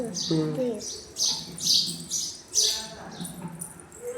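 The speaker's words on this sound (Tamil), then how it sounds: "சிட்டுக்குருவி வீட்டில் இருக்கு" A house sparrow chirps indoors in a home, a run of bright, close, repeated tweets in short bursts, with a voice or other sounds faintly mixed in.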